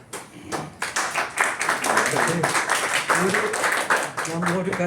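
An audience claps hands in a dense, continuous burst of applause throughout, with voices mixed in underneath.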